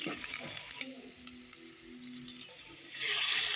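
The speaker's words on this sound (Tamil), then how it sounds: "கருவேப்பிலை நல்லா பொரிஞ்சு வந்து புளித்தண்ணியை சேர்த்துக்கலாம்" Tamarind water goes into hot oil with curry leaves in a pan, giving a loud hiss of sizzling at the start. It drops to quieter bubbling with a faint hum and small clinks, then surges back into strong sizzling.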